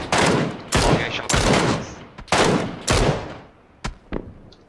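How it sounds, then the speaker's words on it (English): Bursts of gunfire from a PUBG match crack out loud and close, several sustained volleys with short gaps, then a couple of sharper single shots trailing off. "someone from 340 is shooting us"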